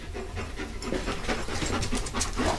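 A protection dog pants rapidly and steadily at close range, a continuous breathy rhythm with no voices over it.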